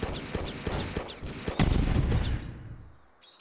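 Rapid gunshots fired in the video game Deer Simulator, a quick string of sharp cracks for about two seconds, then a denser, louder burst before fading to near silence.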